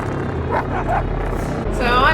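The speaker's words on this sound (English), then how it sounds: "hell of a dog" Dog barking in an episode of the animated series The Clone Wars, a few short barks and yips mixed under overlapping talk and show dialogue.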